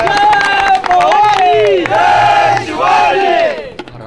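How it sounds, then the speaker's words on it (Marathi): A loud crowd at a Diwali cultural event in Satara cheers, whoops and claps together, rising and falling in waves of shouting before fading near the end. "जोरदार अभिनंदन. टाळ्या जोरदार."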